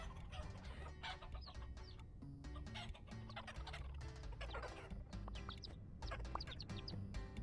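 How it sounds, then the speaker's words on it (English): Chickens cluck and chatter steadily throughout, several birds close by in a Vintage Story farmyard, with a continuous layered bed of game ambience and frequent short clucks overlapping one another. "Hello, chickens."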